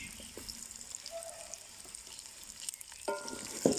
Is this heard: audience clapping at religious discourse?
no